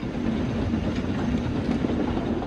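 A train rumbles past nearby, with a heavy steady roar and faint rhythmic clatter of wheels on the rails.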